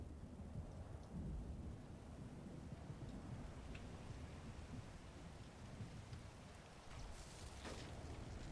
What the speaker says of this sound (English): Yep, I love that lightning.